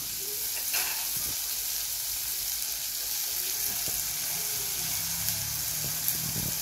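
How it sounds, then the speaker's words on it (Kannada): Tamarind and tomato fry in a pan for bassaru, a close, steady sizzle and spatter with occasional light pops and clicks throughout. "ಟೊಮೆಟೊ ಇದೆಲ್ಲನೂ ಹಾಕ್ಕೊಂಡು ಫ್ರೈ ಮಾಡ್ಕೊಳ್ಳೋಣ"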